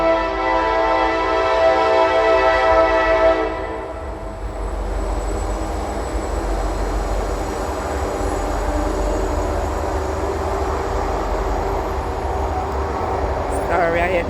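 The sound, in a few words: passing train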